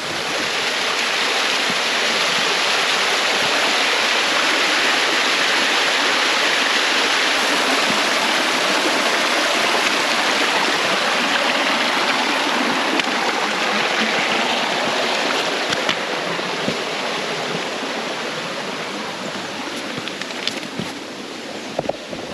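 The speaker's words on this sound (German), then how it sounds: "Hier ein Wasserfall." A waterfall on the West Highland Way in Scotland roars steadily, a loud, dense broadband rush of falling water that continues unbroken throughout.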